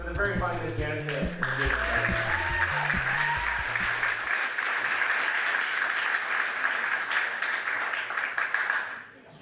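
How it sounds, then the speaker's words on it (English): A live comedy-show audience bursts into loud, sustained applause and cheering for a comedian taking the stage, steady dense clapping for several seconds over brief music at the start, then cutting off abruptly. "Round of applause for the very funny Miss Janet Kim."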